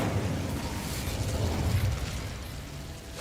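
Incendio fire spell cast in the Hogwarts Legacy video game, a steady roaring, crackling burst of flame that holds loud and dense for about three seconds with no talk.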